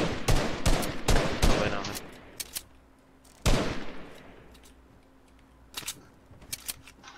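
Sniper and rifle fire in a Free Fire arena match cracks out in a rapid burst of sharp shots, then a single loud shot with a trailing echo and a few scattered later shots. A voice talks briefly over the gunfire.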